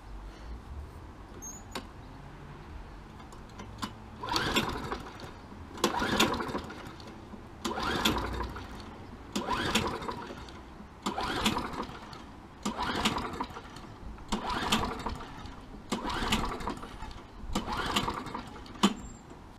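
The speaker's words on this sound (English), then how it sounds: "it has a 5 horsepower Briggs and Stratton Quantum. Alright, this one's hard starting, so let's see how this one does for 2018." A hard-starting lawn mower with a 5 hp Briggs and Stratton Quantum engine is pull-started over and over. About ten evenly spaced recoil pulls each give a brief rasping churn, but the engine never catches.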